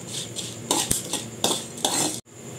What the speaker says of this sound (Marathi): आपण हे तेलामध्ये तळून घेऊ।